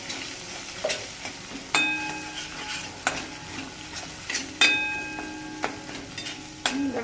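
Drumstick masala frying in a pan as coriander powder is stirred in, giving a steady sizzle with repeated sharp scraping clinks of a spoon against the pan at close range, no talking.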